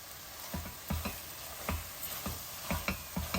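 Rajma curry with homemade garam masala stirred in a pan, a spoon scraping and tapping the metal in irregular strokes over a soft, quiet sizzle.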